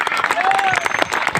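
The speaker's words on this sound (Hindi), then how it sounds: "आप लोगों को भरोसा है तो एक बार जोरदार तालियां बजाएंगे उसके लिए।" Spectators at a kabaddi match between MPA Harda and Narsulaganj clap together in a quick, busy burst, with a voice speaking over the crowd throughout.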